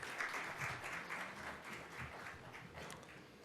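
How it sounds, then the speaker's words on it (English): An audience applauds at a 2017 Indian corporate brand awards ceremony, with faint, continuous clapping that sounds distant and steady for a few seconds and no talk over it. "Ladies and gentlemen, a huge round of applause."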